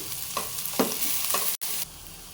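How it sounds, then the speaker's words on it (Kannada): Beans, carrot and capsicum stir-fry in a pan for quinoa fried rice: a loud, close sizzle cut by three rhythmic scraping stir strokes, then a brief break before the frying continues. "ಬೀನ್ಸು, ಕ್ಯಾರೆಟು, ಕ್ಯಾಪ್ಸಿಕಮ್ಮು ಎಲ್ಲದನ್ನು ಹಾಕ್ಕೊಳ್ತಾ ಇದ್ದೀನಿ."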